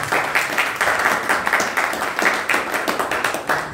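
A church congregation applauds and cheers for Jesus, filling the space with steady, rhythmic group clapping at a brisk, even pace for several seconds, with no talking over it.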